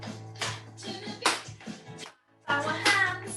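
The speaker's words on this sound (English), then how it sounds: "Clapping our hands to the beat." Children in a dance class clap their hands in time with a music track, producing a series of sharp, evenly spaced claps with short pauses between groups.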